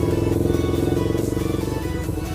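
A manual-clutch motorcycle engine idles into a steady, close throbbing pulse, then is given half throttle as the clutch is let out while pulling away at low speed; there is no talk.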